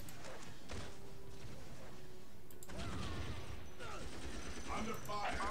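Gunfire rattles in the strategy video game Dawn of War, with sharp bursts and volleys layered over battle noise, growing denser toward the end while brief game voices sound through the mix.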